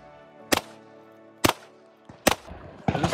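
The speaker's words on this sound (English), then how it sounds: "So now we're gonna shoot it with a 9mm 45 ACP rifle, 12-gauge slug, 12-gauge double-aught buck, AR-15." Gunshots fired at a ballistic riot glass window, four sharp, loud reports spaced roughly a second apart, each with a short ringing decay and no talking between them.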